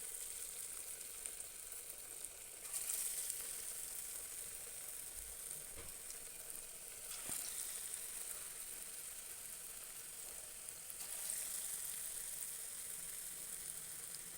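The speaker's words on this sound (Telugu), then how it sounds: "ఇప్పుడు మనము ఈ నూనె వేడెక్కినాక ఇలా మంచిగా తీసుకొని చిన్న చిన్నగా ఈ విధంగా వేసుకుందాము" Small dollops of corn fritter (makka garelu) batter fry in hot oil, a constant fairly quiet sizzle and hiss that swells briefly as new pieces drop in, with no talking.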